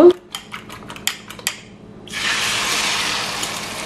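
Beaten egg for a cumin and pepper omelette poured into hot oil in a pan: a few clinks of the bowl, then a sudden steady loud sizzle that continues close up with no talk.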